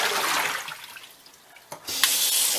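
Tap water runs into a kitchen sink while a celery dehydrator tray is rinsed, a close, hissing splash that dips briefly, then surges back strongly.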